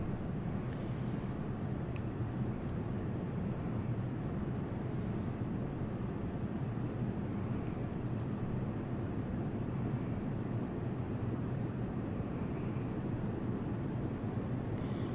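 Steady, continuous drone of an aircraft engine at raised throttle in the Prepar3D v2 flight simulator over New York City, constant and unbroken throughout.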